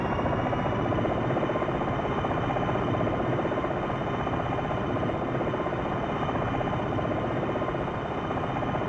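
A Longbow Apache helicopter in the Jane's Longbow Gold flight simulator: a constant, dense rotor and turbine roar that holds steady and loud throughout, with no breaks or voices.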